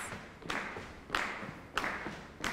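Steady palmas clapping for a Carnavalito folk dance at a workshop, with about five regular, evenly spaced claps that sound moderately close and somewhat faint, with no speech over them.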